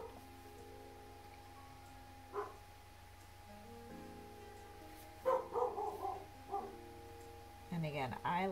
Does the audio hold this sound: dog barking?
yes